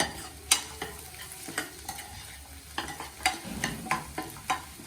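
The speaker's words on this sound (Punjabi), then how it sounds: "ਨਾਲ ਨਾਲ ਪਿਆਜ਼ ਨੂੰ ਵੀ ਹਲਾਈ ਚਲੋ" Onions frying in a pan while being stirred, a low sizzle under repeated scraping and clinking strokes of a spoon against the pan at an irregular pace, fairly quiet and close.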